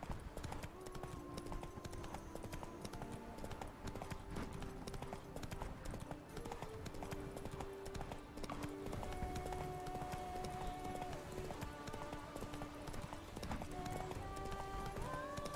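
Roach the horse gallops at speed in The Witcher 3: Blood and Wine, a continuous close clip-clop of hooves that runs under game music and ambience throughout.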